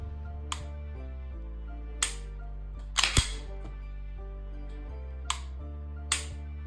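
Canik TTI Combat striker-fired pistol being dry-fired: about six crisp, sharp trigger clicks, close up and spaced irregularly over a steady low background tone, with two clicks close together in the middle.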